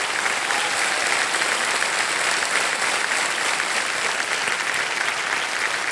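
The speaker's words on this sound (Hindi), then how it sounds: "तालियां बज जाए उनके लिए।" A television quiz show studio audience claps loudly and steadily for a contestant, a dense, continuous wash of applause with no talking.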